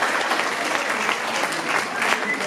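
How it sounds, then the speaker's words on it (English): Guests at a wedding reception keep up a sustained round of applause for the newlyweds, a thick, even patter of many hands that stays loud and unbroken throughout, with faint crowd murmur underneath. "Come on, everybody. Proper round of applause."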